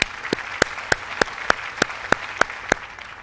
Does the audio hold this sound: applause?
yes